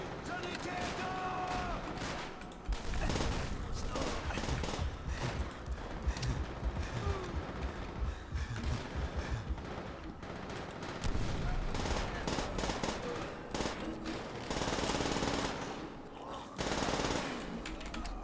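A PPSh-41 submachine gun from Call of Duty: World at War rattles in rapid, sustained bursts, close and loud, amid a dense wall of battle noise and other gunfire, with voices mixed in.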